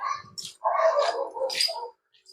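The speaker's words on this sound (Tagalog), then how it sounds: "Yan eh, dami aso dun." Several dogs around a relocation housing site in the Philippines give a quick series of yelps and barks with whiny, high-pitched edges, fairly close and loud, with short gaps between bursts.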